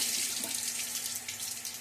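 Tap water runs steadily into a sink during shaving, a close continuous rushing splash with a faint low hum beneath.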